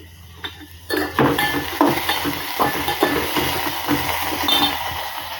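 Poha cooks in a pan at home, with a utensil scraping and stirring against the metal over a steady frying sizzle, along with occasional clinks of the pan and cutlery, all up close and without talk.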